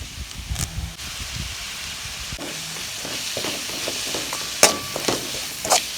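Washed curry leaves go into hot oil with onions while goat blood fry is being cooked, giving a steady frying hiss with a few sharp crackling bursts toward the end.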